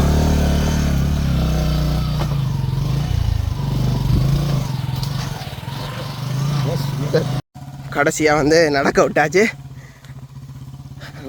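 A motorcycle rides along with a steady engine drone for several seconds, a brief cut, then rougher revving and clatter, while someone talks over it throughout.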